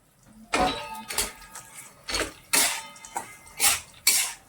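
Skinned peanuts with red chilli powder tossed in a pan, a series of close, rattling metallic scrapes and clatters coming in uneven bursts roughly every half second.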